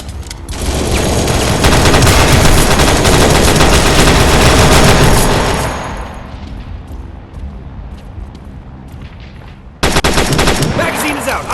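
Machine gun barrage in a VR first-person shooter game, loud continuous automatic fire for several seconds that drops off, then resumes abruptly near the end.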